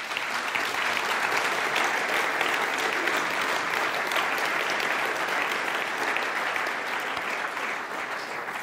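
A crowd applauds at a cycling club's panel discussion for a local election, with dense, even clapping that holds steady throughout and fades only slightly near the end.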